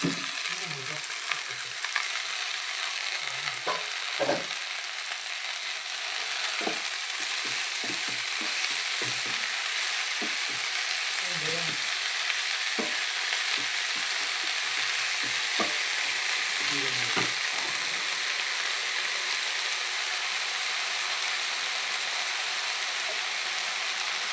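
Fresh green cheera (amaranth) leaves frying in a pan, a constant hissing sizzle with intermittent scraping and stirring knocks scattered throughout, close and unbroken, no talking.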